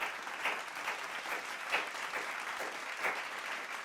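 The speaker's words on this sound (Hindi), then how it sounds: "एक बार जोरदार तालियों से स्वागत हो जाए हमारे ट्रेनर्स का, जोरदार तालियां।" Loud applause greeting trainers at a national achievement day celebration, dense clapping from many people sustained evenly throughout, heard alone without talk.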